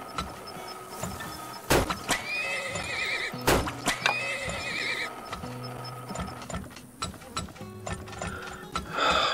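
Horses neigh and whinny repeatedly in the Turmoil video game, mixed with clip-clopping hooves and ratcheting mechanical clicks, moderately loud with layered game effects.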